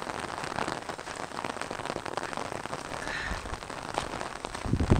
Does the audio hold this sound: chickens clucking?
no